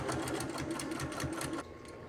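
A sewing machine stitching a seam in a flannel shirt, with a rapid steady mechanical clatter close up that stops abruptly near the end.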